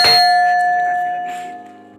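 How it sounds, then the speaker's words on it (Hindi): A single metal bell at Bijna fort in India is struck once, ringing out with a clear sustained tone that slowly fades away. "ये घंटी लगी हुई है यहाँ पर"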